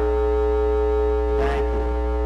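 A single steady electronic tone sounds during a lecture, rich in harmonics and held evenly throughout, with a brief noisy swell near the middle.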